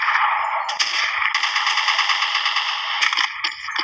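Gunfire in a mobile shooter video game: rapid automatic bursts rattle loud and close, one long sustained volley in the middle between shorter bursts, with no talking.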